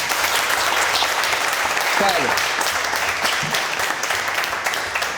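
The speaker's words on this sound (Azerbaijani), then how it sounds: "Dediklərim doğrudur, yoxsa yox, alqışla." Studio audience applause at a comedy talk show, a dense, steady wash of clapping lasting throughout, with a voice briefly speaking over it.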